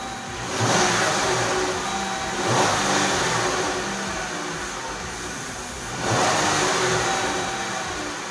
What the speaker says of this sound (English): Now we'll turn the car off, brake, start